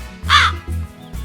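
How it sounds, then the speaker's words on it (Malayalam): A cartoon crow gives one loud, harsh caw, followed by a couple of softer, lower clipped calls, with no talk over it. "ഒരു കാക്ക അതുവഴി വന്നത്"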